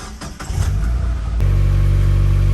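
A Mazda Miata NB engine with stock exhaust cranks briefly, catches, and settles into a steady, loud idle with a low, even hum.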